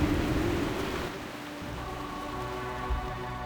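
Rain falls steadily in World of Warcraft, in the Turtle WoW setting, a constant hissing wash with a slight dip in intensity partway through and no voices.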